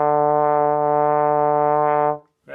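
A brass instrument holds one long, steady, rich note for roughly two seconds, sounding loud and close, then stops abruptly into silence.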